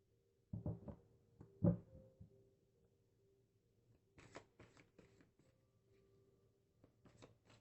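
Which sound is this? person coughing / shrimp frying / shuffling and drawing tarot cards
shuffling and drawing tarot cards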